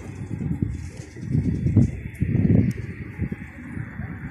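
Pigeons flocking and flying outdoors in a mixed flock, wingbeats and soft rustling flutters rising and falling over steady low background noise, with some faint sounds around but no clear speech.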